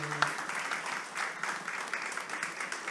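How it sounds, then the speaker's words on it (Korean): A church congregation gives a sustained round of applause during a Sunday online service, many hands clapping in a dense, even wash that holds steady throughout. "하나님께 감사의 박수 드리겠습니다."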